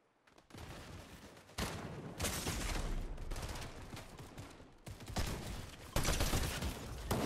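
Rapid bursts of gunfire in Fortnite Chapter 5 50v50, loud and dense, with sustained automatic fire that pauses briefly and then resumes in heavy volleys.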